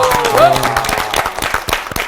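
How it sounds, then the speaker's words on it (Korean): Studio audience at a broadcast Bible-lecture program applauds briefly, a dense patter of clapping mixed with voices, as a speaker talks over it. "영광과 박수를 함께 드립니다"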